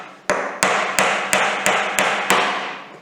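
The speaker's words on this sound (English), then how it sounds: "these small nails, I prefer to use a smaller hammer" A small hammer drives small nails into a wooden Beecastle beehive: seven loud, sharp, evenly spaced strikes close by, each ringing briefly before the next.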